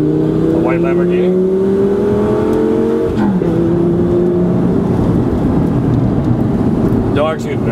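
Lamborghini sports car engine running loud and close, rising slightly in pitch, then dropping after a brief change midway and holding a steady rumble; voices talk over it.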